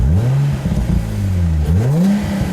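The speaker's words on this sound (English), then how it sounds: "They make such a nice sound, these 350s." A Nissan 350Z engine revving through a mixed exhaust built from assorted parts, the note climbing, dipping, then rising again, loud and close with no voices over it.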